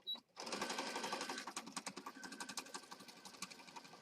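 Close, quiet sewing machine stitching through several sandwiched layers of fabric for a junk journal, with a brief pause before a rapid continuous run that slows into separate ticking stitches.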